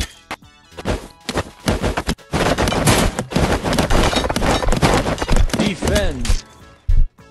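A volley from Archidon archers in Stick War Legacy, a rapid burst of sharp thwacks and clattering impacts that comes in dense clusters, with short gaps between waves and a brief voiced call near the end.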